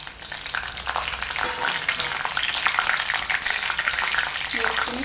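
Green chillies and curry leaves fry in hot oil, giving a loud, dense and continuous sizzle with crackling bursts that stays steady throughout, with no voices.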